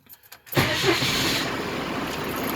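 A Cummins diesel engine swapped into a Ford F150 catches after a few faint clicks, then settles into a steady, moderately loud running rumble with no talk over it.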